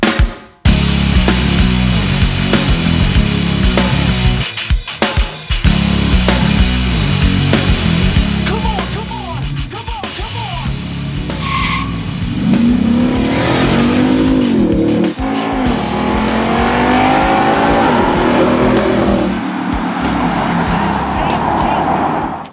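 Loud, close engine of a 2007 Jeep Grand Cherokee SRT8 with a 426 stroker V8 roars and revs almost continuously, with rising and falling pitch sweeps and brief dips, then settles toward a steadier drone near the end.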